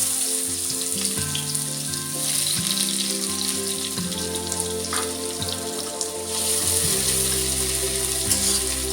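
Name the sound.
onions and chillies frying in a pan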